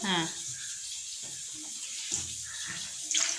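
Running water from a tap splashing steadily as a jar is washed in a home kitchen, a continuous hiss with brief clinks, under talk.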